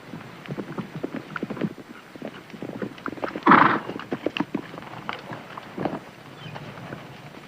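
Horses ridden hard in an old Western setting, their hooves clip-clopping in a steady, uneven patter. A louder, rougher burst near the middle could be a snort or whinny.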